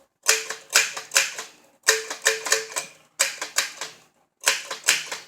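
An old Adler No. 7 typewriter types in quick bursts of loud, close key strikes, each run of clacks separated by short pauses.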